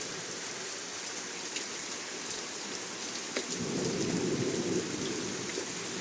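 Thunderstorm with steady heavy rain hissing throughout, a sharp crack of nearby thunder at about three and a half seconds followed by a deep rolling rumble that swells and lingers to the end.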